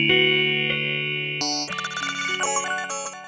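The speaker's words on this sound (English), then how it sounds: "So on one side, I got my ring mod, Randy's Revenge. And then after that, I got my crazy banana pedal." Electric guitar run through a ring modulator and a banana effects pedal, giving metallic, bell-like ringing tones that shift abruptly into a brighter, harsher cluster of high pitches partway through, loud and close with no talking.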